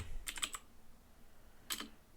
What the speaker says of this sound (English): typing with one hand is really annoying.